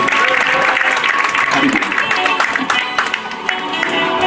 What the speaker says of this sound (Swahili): Makofi kwake tafadhali. A round of applause.